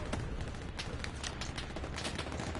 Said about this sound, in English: I see some strafing fire coming from over here